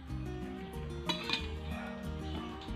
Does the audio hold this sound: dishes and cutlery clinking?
yes